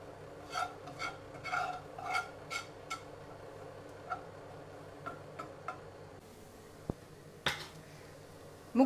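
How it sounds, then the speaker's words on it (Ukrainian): Flour being stirred and toasted in a dry pan, heard as quiet, irregular taps and scrapes of a utensil against the pan, with a couple of sharper knocks near the end. "І отак перемішую обжарую муку."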